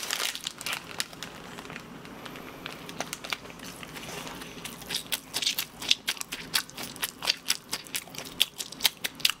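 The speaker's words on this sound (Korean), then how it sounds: "쩝쩝 소리 나게 먹어주세요." Crisp, loud smacking and crunching of someone chewing toast close to the mic, irregular bites and wet mouth sounds growing busier toward the end, with no talking.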